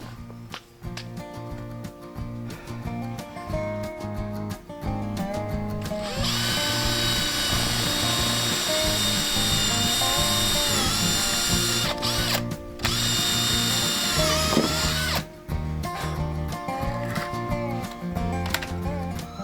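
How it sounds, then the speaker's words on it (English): A power drill whines steadily for a long stretch, grinding and rattling as it bores holes in concrete, with brief pauses and restarts, loud and close. "Now I'm drilling those holes just slightly past centre"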